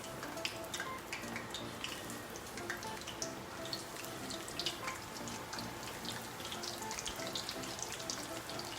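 Battered oyster mushroom nuggets frying in hot oil, a faint steady sizzle with scattered crackles and pops, no voices.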